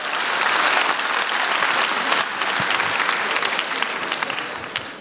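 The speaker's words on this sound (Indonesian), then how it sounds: "Tepuk tangan buat Deswin sekali lagi boleh" A studio audience at Balai Sarbini applauds stand-up comic Deswin at a SUCI 7 semifinal: dense, loud, sustained clapping from a large crowd that holds steady for the full five seconds, easing slightly at the end.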